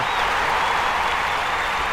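Steady, dense applause from a large stadium crowd after a long throw in the London 2012 Olympics video game, a continuous wash of clapping with no pauses.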